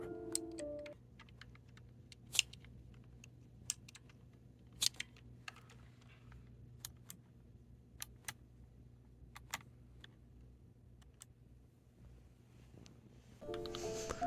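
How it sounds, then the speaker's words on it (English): Typing on a Razer Ornata V3 keyboard, with scattered individual key presses clicking sharply at irregular intervals over a low steady hum, close and quiet. "it takes a substantial amount of pressure to register the press"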